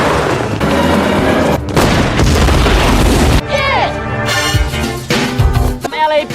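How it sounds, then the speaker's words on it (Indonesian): Gunshots and a car exploding in an action film, loud booming blasts and bursts of gunfire with crashes and debris, under dramatic scoring and brief voices. "Carter menembak mobil tersebut sampai meledak"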